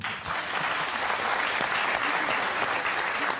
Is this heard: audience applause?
yes